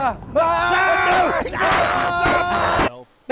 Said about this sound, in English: Just me screaming.